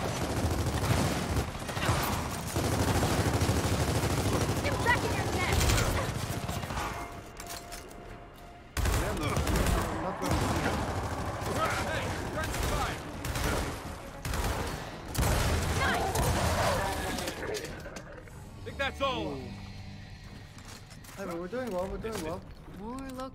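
Gunfire from the video game Gears of War 4, loud dense bursts of automatic shots in bunches with pauses, under frequent voices of players talking over the action.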